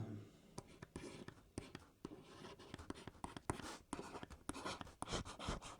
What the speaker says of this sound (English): I try to write the Q.